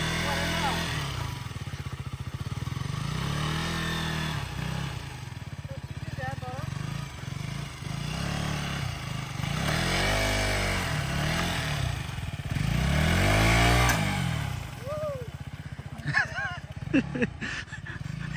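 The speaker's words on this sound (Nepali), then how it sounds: "अब हामी एकछिन बाइक राउन्ड हान्छ" Motorcycle ridden in laps around a large open ground during a family picnic: a fluctuating engine drone that rises and falls as it passes near and away, under frequent talk, with a dog barking briefly.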